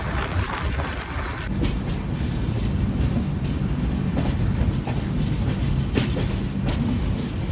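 A train rumbles steadily from inside a carriage as it arrives at Karjat station, with constant rolling noise and a few soft clanks and clicks.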